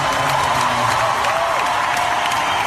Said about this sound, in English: why is the audience cheering?